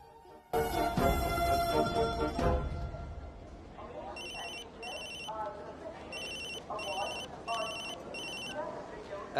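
A telephone rings in a domestic scene from a Telugu feature film, its bell sounding in repeated short bursts over background noise while people talk nearby.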